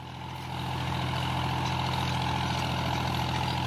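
A John Deere 5310 tractor engine drones deep and steady while pulling a plough cutting deep into a field, its heavy low rumble swelling after a quiet start and then holding constant and close.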